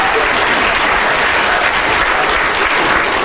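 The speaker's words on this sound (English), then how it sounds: "big round of applause" An audience breaks into a big round of applause, dense and steady crowd clapping that fills the whole moment at full volume with no voice on top.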